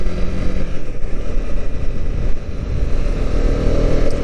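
Honda CB250R motorcycle under way, a loud steady engine drone mixed with heavy wind rumble from riding, constant throughout with no voices.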